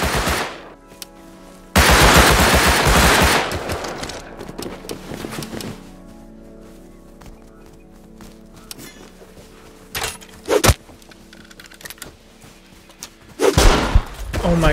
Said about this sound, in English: Now he's shooting.